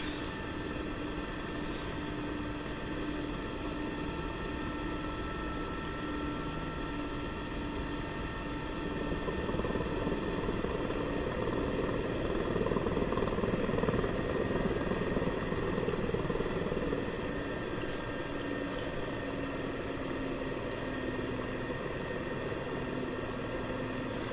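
A Mi-8MTV helicopter in a flight simulator game, its rotor and engine droning steadily and continuously, swelling slightly louder midway, with a thumping, whirring texture and no voices.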